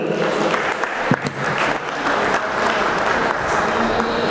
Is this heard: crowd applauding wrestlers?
yes